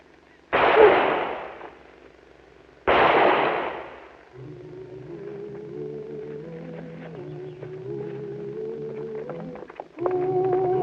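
Two loud, close gunshots ring out a couple of seconds apart during a showdown in a western TV episode, each one decaying before a low sustained tone and music take over.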